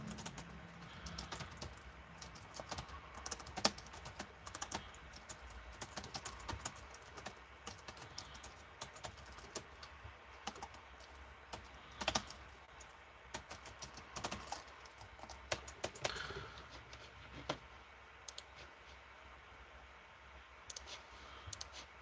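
Typing on a computer keyboard, a fast, irregular run of light close clicks that continues steadily and quietly throughout.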